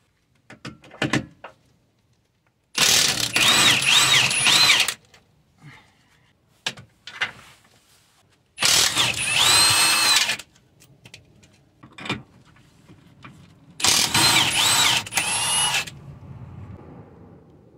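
Power tool removing 17mm engine mount nuts on a Toyota Sienna 3.3, with three loud whirring bursts of about two seconds each, separated by quieter clanks and handling noises nearby.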